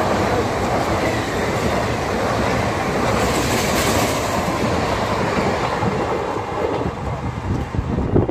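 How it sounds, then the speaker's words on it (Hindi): A fast train races through Vidyapati Dham railway station, a loud, continuous roar of wheels and rushing air with rhythmic clatter, heard close from the platform without speech. "भैया स्पीड में ट्रेन आ रहा है"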